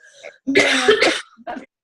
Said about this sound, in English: And I have a cough, but it's unfortunately not allergy related.